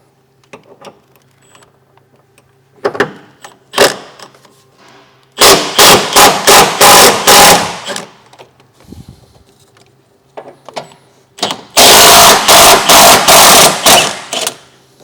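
Bursts of an impact wrench with an 18mm socket loosening engine mount bolts on a 2013 Ford Explorer frame, two loud rapid hammering runs with scattered clanks and tool handling between them.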